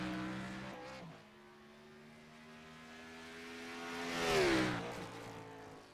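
Engine of a Chevy Camaro race car in the iRacing video game at Watkins Glen, a steady harmonic drone that swells and shifts pitch around the middle before dropping back, with no talk.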